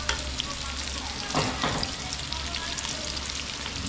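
Garlic and onion frying in oil give a steady crackling sizzle with a couple of stirring scrapes, close but moderately quiet, with no talking.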